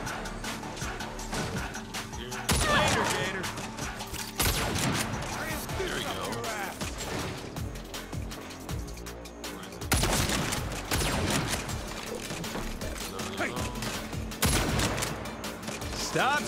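Gunfire inside a museum exhibit in the video game Saints Row, with dense bursts of rapid shots and crashes that come in waves over a continuous din, loud and close, while voices shout over it.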